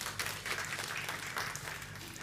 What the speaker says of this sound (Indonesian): Kita kasih tepuk tangan buat Johnson.